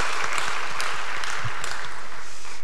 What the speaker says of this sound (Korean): 우리 다시 한번 박수하겠습니다